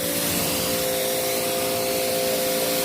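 Water spray hissing steadily as a Toyota Prado with a five-year coating is rinsed down, a continuous broadband rush close by with no talking.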